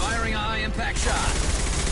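Gunfire in Mass Effect 2, a loud burst of sharp cracks that rattle over a dense background of combat noise, packed close together within about two seconds.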